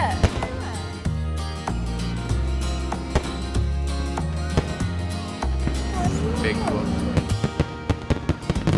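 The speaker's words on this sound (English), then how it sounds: "Some cool fireworks going on." Fourth of July fireworks pop and crackle in sharp, irregular bursts down the street, mixed with music and a background din.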